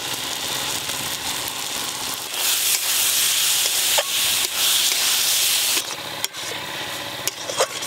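Green peas sizzling in a hot pan with spices, with a steady hiss of frying under occasional scrapes and knocks from stirring, loud and close throughout.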